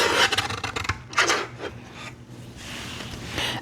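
Scissors or a rotary cutter trimming quarter-inch strips from a scrap of fabric, heard as close, repeated rasping cuts in uneven bursts with no talking.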